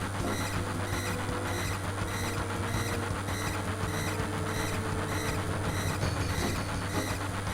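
A train rolls along in Final Fantasy VII, a dense, steady mechanical rumble with a repeating rhythmic clatter and a constant low hum, loud and unbroken with no voices.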